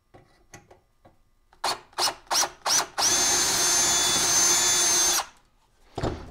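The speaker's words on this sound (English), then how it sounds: "let's try drilling out the rivets." Several short drill bursts bite into rivets on a vintage Dynastat DS 120 static eliminator, then one sustained whining drill run of about two seconds, close and loud, followed by a brief final burst.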